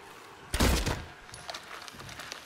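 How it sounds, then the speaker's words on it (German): Gunfire and melee blows in the Silent Hill 2 Remake horror game: a loud, dense burst of impacts around half a second in, followed by a string of lighter thuds and hits that gradually fade. "so eine schöne Kombi aus Schießen und Hinschlagen"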